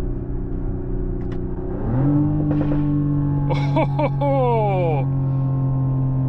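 Loud crackling exhaust pops from a 2025 Mercedes GLE 53 AMG Hybrid coupe, a burst of several sharp bangs over a steady engine drone heard from inside the cabin, with a brief exclamation from a person.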